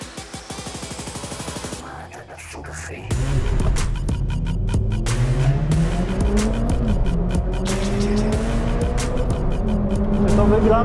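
A Mitsubishi Lancer Evo and a Subaru Impreza STI Spec C launch hard from a standing start in a race. Loud engine roar climbs through the gears with rising revs, and brief tire noise comes at the start.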